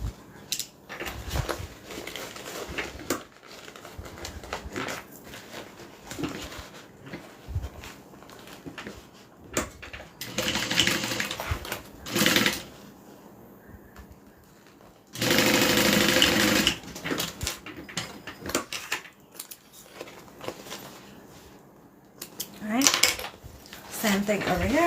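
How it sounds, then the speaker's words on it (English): A sewing machine stitches the side seams of a bag in several bursts of whirring, separated by pauses filled with handling clatter and quiet shuffling. "Now I'm going to sew open my side seams just like I did the interior."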